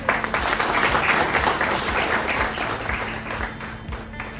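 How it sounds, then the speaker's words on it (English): Applause from the gathered guests at a felicitation ceremony in Palghar, dense and steady clapping filling the room at close range, continuing evenly for several seconds with a faint background hum. "So let's give a big round of applause to all of them."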